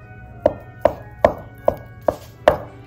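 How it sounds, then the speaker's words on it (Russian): A kitchen knife chops boiled eggs on a cutting board for a festive salad, striking in six crisp, evenly spaced thuds about every 0.4 seconds, close and distinct over a quiet background. "Есть, конечно, специальные приспособления для того, чтобы быстренько нарезать яйца, но я обойдусь сегодня ножом."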